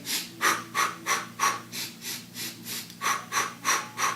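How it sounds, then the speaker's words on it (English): Rhythmic four-count breathing close to the mic, in through the nose and out through the mouth, a dozen evenly spaced airy puffs in a steady repeating pattern, with no talking. "breathing in through your nose, 4 puffs, breathing out through your mouth"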